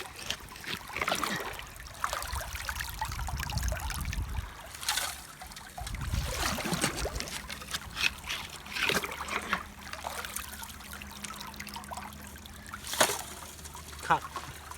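Water washing clay through a gold sluice, trickling and splashing at moderate level under occasional talk, with uneven surges as material is swept through.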